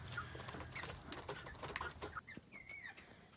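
Several chickens, mostly hens with one or two roosters, cluck and squawk nearby, overlapping calls in an irregular rhythm with a few higher squeals, fairly quiet outdoors.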